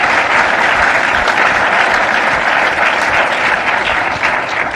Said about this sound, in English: I want to give the panelists a round of applause.